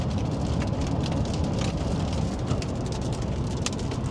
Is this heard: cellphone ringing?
no